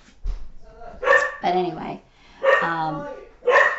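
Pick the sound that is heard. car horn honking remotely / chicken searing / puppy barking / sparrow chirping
puppy barking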